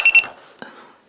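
A crashed quadcopter drone's buzzer gives two quick, shrill beeps up close, followed by a short, soft knock.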